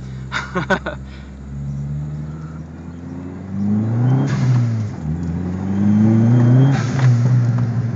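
A Dodge Neon SRT-4 accelerates hard through first and second gear on slightly wet pavement, the engine rising in pitch, dropping at the shift, then climbing again loudly from inside the car.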